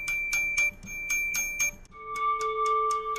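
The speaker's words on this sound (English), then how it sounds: "this is a tubular bell combined with the timbales" A tubular bell blended with timbales plays as a layered percussion sample, repeated bright struck hits with a sharp drum attack and ringing metallic sustain, shifting to a lower-pitched ringing note midway, loud and close.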